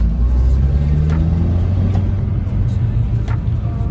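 A car accelerating in second gear, its engine a close, steady low rumble that holds for several seconds with a few faint clicks above it.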